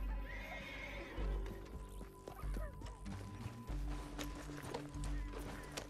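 A horse in the Red Dead Redemption 2 video game whinnies and gallops with steady clip-clop hoofbeats, loud and close, over a low rumble of game ambience.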